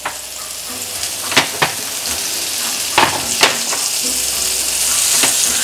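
Blackened mahi mahi fillets grill in a pan with a steady close sizzle, broken by a few sharp clicks and scrapes of a utensil against the pan.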